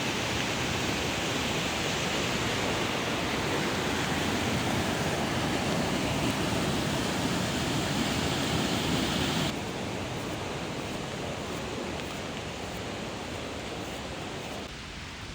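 The full North Fork of the Wallace River rushes in a dense, steady roar of water, constant and close, easing slightly in loudness partway through, with no voices.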